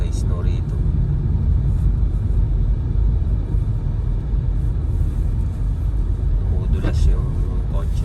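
A car driving on a thick, unploughed snowy road in Canada during a snowstorm, sliding as it goes: a steady, loud low rumble of engine and tyres throughout, with a voice speaking over it.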